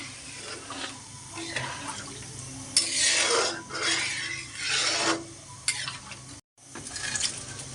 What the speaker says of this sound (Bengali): ছোলের পানি দিয়ে দিলাম